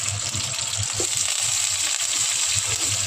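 Cumin seeds, coriander seeds and onions sizzle in hot oil as a tempering for sambar, a steady close crackle with soft intermittent stirring.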